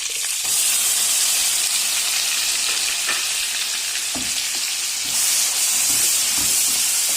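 Ground onion paste sizzles steadily in hot oil and melted butter for a green peas curry, a continuous close frying hiss with occasional crackles and a brief stir, no voices.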